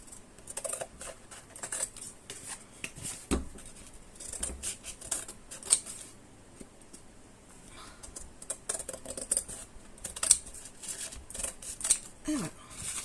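Scissors cutting paper at an angle for the cover of an accordion-style album, a series of crisp snips and rustles, some sharp and close, spread irregularly over the whole stretch.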